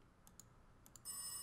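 A phone rings in the horror video game Rise of Insanity. Two quick pairs of faint electronic chirps give way to a sustained, brighter ring, all quiet and without speech.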